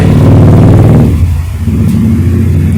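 Eco E electric bicycle with a 24 V 250 W hub motor running, giving a close, loud, steady mechanical hum that drops in level and pitch after about a second, then carries on at a lower tone.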